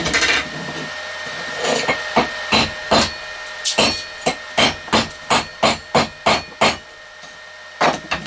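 A hammer chips slag off a fresh stick weld laid with a Minleaf ZX7-250 inverter welder, about fifteen sharp metallic taps in a quick, uneven rhythm, close and loud with short pauses between bursts.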